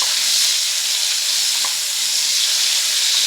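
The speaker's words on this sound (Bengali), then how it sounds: "কাঁচা লঙ্কা, কালো জিরে দিয়ে আমটাকে ভালো করে একটু কষিয়ে নেব।" Raw mango pieces frying with green chili and black cumin in a pan, a continuous bright sizzle with a faint stirring click partway through, close and steady with no talking.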